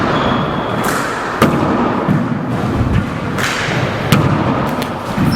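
A racquetball smacks off the walls of a four-wall court during a women's match, a few sharp echoing thuds spaced a second or two apart over steady roomy crowd and court ambience.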